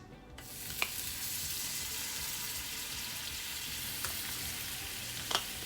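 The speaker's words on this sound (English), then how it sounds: "I'm going to preheat my pot, and I'm going to add the butter to the pot" Butter melting in a preheated pot for Jamaican pepper shrimp, a steady close sizzle with a few sharp pops and crackles, no voices over it.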